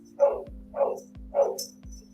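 A dog barks three times in a steady rhythm, each bark fairly loud and close, over a low constant hum in the room.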